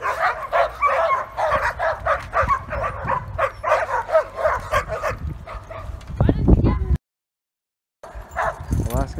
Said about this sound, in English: Alaskan Huskies.